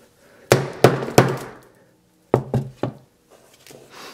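A hammer strikes a Samsung Galaxy S7 phone in sharp, loud knocks, three quick hits followed after a pause by another cluster of three, each with a brief glassy ring.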